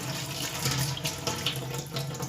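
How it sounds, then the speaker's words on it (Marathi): Running water pouring over chopped cabbage held in a sieve, a steady close splashing stream with small fluctuations throughout, no voices. "स्वच्छ मी ही चाळणीमध्ये धुवून घेत आहे"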